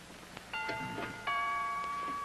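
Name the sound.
doorbell ringing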